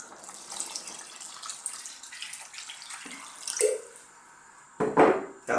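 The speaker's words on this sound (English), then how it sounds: "Now I'm going to go in with some water." Water poured from a container into a pan of simmering fresh tomatoes on the stove, a steady splashing pour for several seconds, then a brief sputter and a louder final splash near the end.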